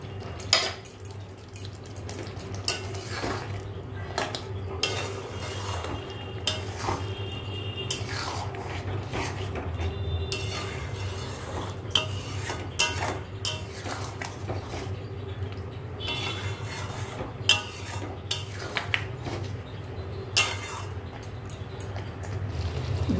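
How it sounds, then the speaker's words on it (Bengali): Paneer pieces dropped and stirred into palak paneer in a pan, heard as a long stretch of irregular soft clinks, scrapes and wet taps over a low background hum, with no voices. "এবার আমি পনিরের টুকরোগুলো দিয়ে দেবো।"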